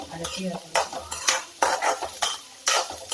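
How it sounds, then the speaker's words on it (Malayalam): Green beans are being sautéed in oil with mustard seeds, a spoon scraping the pan in quick rhythmic strokes over a close, lively sizzle, with metal clinks between strokes. "ഇനി ആ എണ്ണയും കടുകും കൂടെ ഉള്ളതിൻ്റെ അകത്തേക്ക് നമുക്ക് ഈ ബീൻസ് നന്നായിട്ട് ആ എണ്ണയിലൊന്ന് വഴറ്റിയെടുക്കാം"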